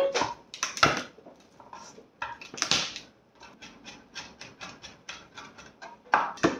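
A knife minces garlic on a cutting board in a kitchen, a quick, irregular run of close, light tapping chops with soft scraping between them.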